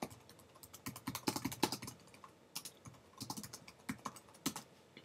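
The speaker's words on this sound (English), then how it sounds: "So I'll type that right here." Someone types notes on a computer keyboard, a quiet, irregular clatter of fast key presses in short bursts with brief pauses, close and with no voices.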